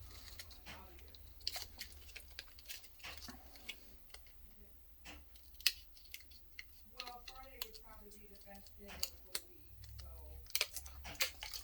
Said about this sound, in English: trying to push to advance as opposed to open and close the scissors